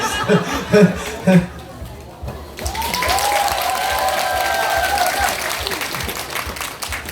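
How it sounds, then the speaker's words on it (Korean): Applause breaks out from a festival crowd at a street-performer show at a ginseng and Hanwoo beef festival, a steady, dense clapping that runs for several seconds, preceded by brief laughter and chatter. "박수 한 번 쳐주세요."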